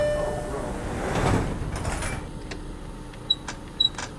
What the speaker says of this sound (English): Clear the doors, doors are closing.